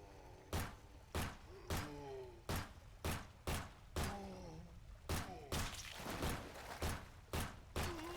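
Pistol rounds fire in Nightmare of Decay at a steady rhythm, about a dozen sharp, loud reports spaced roughly half a second apart. Short game tones and effects sound between the shots.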